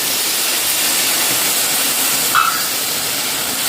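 Soy sauce hitting chilli chicken in a hot pan gives a loud, steady sizzling hiss that holds evenly throughout, with no talk over it.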